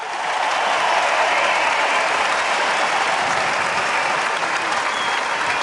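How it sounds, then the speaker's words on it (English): Sustained applause from a crowd fills the space, dense steady clapping at even loudness throughout without a break. "Round of applause for that."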